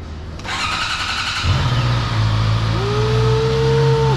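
A brand-new motorcycle is started in neutral: a quick starter crank catches into a running engine that settles into a steady, close idle with a faint rising whine.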